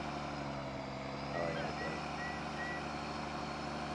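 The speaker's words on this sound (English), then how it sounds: "this truck sounds weird when it goes high speed" A truck engine in the video game Farming Simulator 19 runs at high speed, a steady droning, whining hum heard throughout under talking voices.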